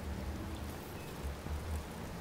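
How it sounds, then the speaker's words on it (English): Steady rain falls in the open-world city of the video game Watch Dogs, a soft continuous hiss of drops on surfaces, alone and unbroken for the whole stretch. "and it's raining again"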